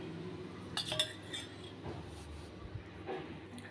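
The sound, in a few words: whisking eggs with chicken powder in a bowl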